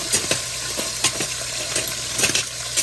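Two packages of meat dropped into a hot pan and cooking, with bright scraping and stirring hits over a steady low sizzle, a few sharp clanks spaced irregularly, close and moderately loud.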